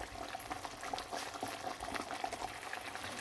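A pot of soya paneer curry bubbles steadily at a rolling boil, soft popping and gurgling close by with no talking.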